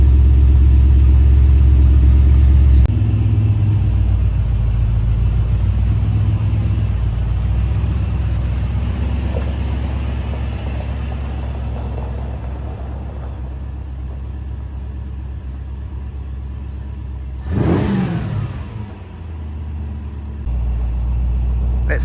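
A Morgan Plus 8 sports car engine idles steadily after winter storage, a close, continuous low rumble that holds even throughout, with a brief louder swell and a short dip near the end.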